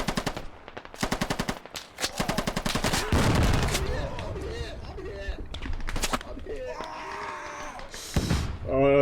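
Bursts of rapid automatic gunfire and single shots from the military shooter game Squad, loud and close, with a player talking over the firing.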